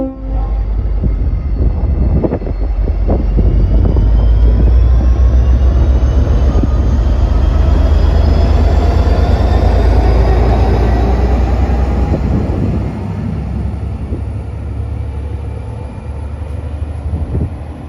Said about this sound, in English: Here you can see our carriages being pushed back into the yard.